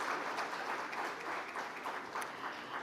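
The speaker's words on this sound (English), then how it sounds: "let's give a huge round of applause for these glorious 25 years" An audience at a technology conference applauding steadily, a dense wash of many hands clapping at a moderate distance, sustained throughout without pause.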